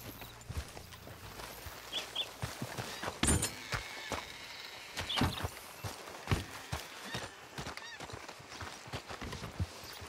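Horses in Red Dead Redemption 2 pulling up at a hitching post, with scattered hoof clip-clops and shuffling steps amid outdoor ambience, brief bird honks and a few louder thumps, no clear neigh.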